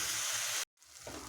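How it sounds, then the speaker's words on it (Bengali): Spice paste of turmeric, slit green chillies and salt sizzles steadily in hot oil for a Bengali mourola fish tel jhal, broken by one brief silent gap before the frying hiss resumes. "সুন্দরভাবে ভাজতে হবে।"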